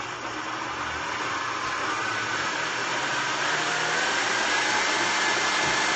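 An electric whisk runs on high speed, a steady dense whir that holds constant and fairly loud for the whole stretch with no talking.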